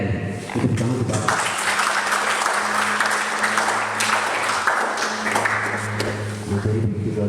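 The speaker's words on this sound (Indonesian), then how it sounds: "tepuk tangan untuk Bapak" Audience applause for a speaker at an education seminar in Papua, a full, loud wash of clapping sustained throughout, with a sustained musical tone and some voices mixed underneath.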